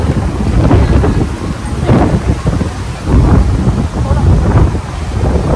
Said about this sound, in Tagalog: Lakas ang hangin, guys, kasi may parating na bagyo.